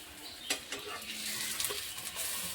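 Pieces of a snack made from sprouted green gram and peanuts are turned over in a pan. A faint, steady sizzle sounds under a few sharp scrapes and clinks of a utensil against the metal.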